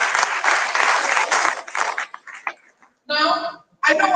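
Classroom students break into a short burst of clapping that lasts about two seconds and then dies away, followed by a voice speaking.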